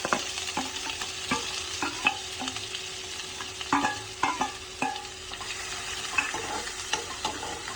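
Chopped onion and curry leaves frying in oil while being stirred for a cabbage dish, with a steady sizzle and repeated scraping clinks of a spoon against the pan.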